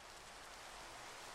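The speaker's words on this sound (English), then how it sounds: "Nice rain." Soft, steady rainfall in the Minecraft modpack Project Ozone Lite makes a dense, even hiss with no distinct drops, quiet and constant throughout.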